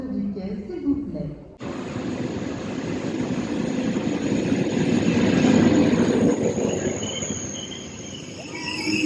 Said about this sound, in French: TGV 8615 va entrer en gare, voici.